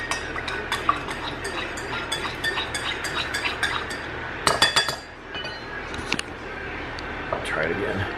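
A spoon stirring creamer into a cup of coffee, bright repeated clinks against the cup in quick bursts, close and moderately loud, with a brief pause in the middle and a few final taps.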